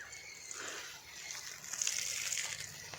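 Faint water gushing and splashing in a garden as a container fills, a steady soft hiss with light sloshing that swells slightly toward the end, no voices.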